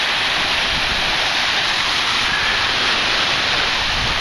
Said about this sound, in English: it's got some waves on the bay